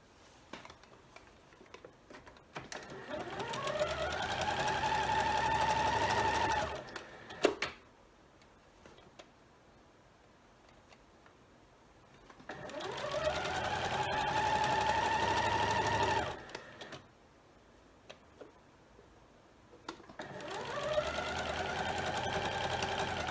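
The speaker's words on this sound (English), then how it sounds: "Now we are going to sew these together." A domestic sewing machine runs in three long bursts while stitching scrappy quilt pieces together, each a steady whirring hum that rises to speed and stops, separated by quiet pauses.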